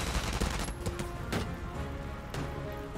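Rapid bursts of gunfire and clattering shots from a Valkyria Chronicles 4 battle fill the scene, dense and continuous with sharp impacts scattered throughout.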